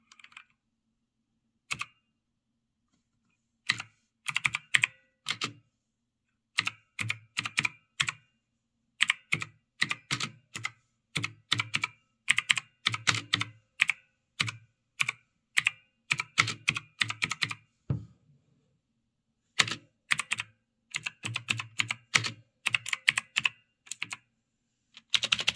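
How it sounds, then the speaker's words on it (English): Keyboard keys clack in irregular bursts of quick typing, close and fairly loud, separated by short silent pauses; the keyboard is paired with a Samsung Galaxy S23 Ultra phone used as a mini laptop. "so I can use it to type."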